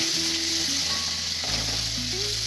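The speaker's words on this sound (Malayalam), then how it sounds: "ഇതൊന്നും ഇങ്ങനെ ഒരു ബ്രൗൺ കളർ ആവണ വരെ ഒന്നിങ്ങനെ ആക്കി കൊടുക്കുക" Chicken curry ingredients frying and sizzling steadily in a hot pan while being stirred until browned, a continuous close sizzle with a low hum underneath and no talking.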